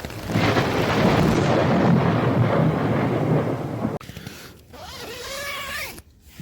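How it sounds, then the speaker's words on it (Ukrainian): Deep rumbling thunder from a storm coming off the sea rolls loudly for several seconds, followed by quieter creaking and rustling noises. "Грім гримить, гроза з моря."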